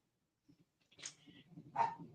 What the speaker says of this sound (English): the little pup, she's right there at the door barking